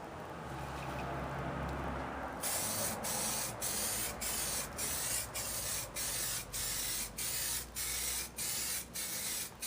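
Aerosol rattle can laying clear coat onto a car part, a steady close hiss that turns into a run of rhythmic short bursts, about ten evenly spaced sprays, loud and alone.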